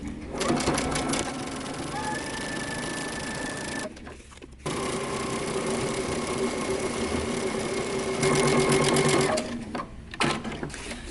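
A sewing machine runs in long, steady bursts close by as it stitches along a fabric edge, with a couple of short pauses between runs, while a person talks quietly.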